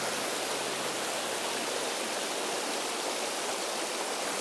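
A small brook, carrying logs and stumps, flows steadily near an old mill on a native trout stream. The water makes a continuous, even rushing hiss that stays close and constant throughout, with no voices.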